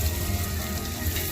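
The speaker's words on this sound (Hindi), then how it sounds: "अभी फ्राई करने वाला है" Chopped onions with bay leaf frying in a pan, a loud dense close-up sizzle with a rain-like hiss and no talking.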